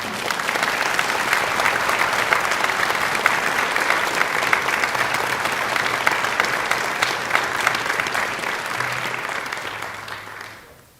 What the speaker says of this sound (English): So please join me in giving Nancy another round of applause.